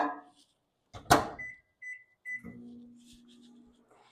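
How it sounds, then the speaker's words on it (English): A microwave oven runs with a low steady hum, melting brownie chocolate, preceded by a few short clicks and beeps from its controls. "I'm going to pop that in the microwave for 30 seconds to mix that"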